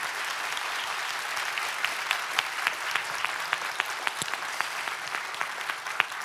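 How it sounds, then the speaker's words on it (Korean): Audience applause for a presidential candidate at a forum event, a sustained crowd clapping with individual sharp claps standing out, moderately distant and fairly even throughout. "다시 한번 뜨거운 박수 보내주시기 바랍니다"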